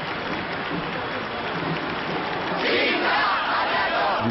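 A dense crowd of supporters surrounds President Giscard d'Estaing's car, giving off a continuous roar of voices that swells louder near the end.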